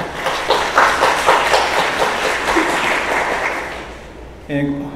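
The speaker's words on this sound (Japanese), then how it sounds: "皆さん拍手でお迎えください。" An audience at a Web3 summit pitch event applauds to welcome a speaker. The clapping is loud, steady and full, tapers off toward the end, and a voice starts talking right after.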